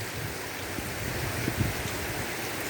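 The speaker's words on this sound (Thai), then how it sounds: "มีฝนกระหน่ำลงมา ท้องฟ้ามืดครึ้ม" Heavy rain falls amid flash flood water, a dense, steady hiss of downpour and rushing water, continuous and fairly loud with no voices.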